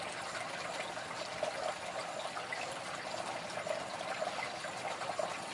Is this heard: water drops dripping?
yes